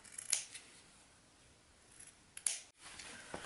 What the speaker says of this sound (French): Une fois votre ceinture cousue, vous n'oubliez pas de couper les coins.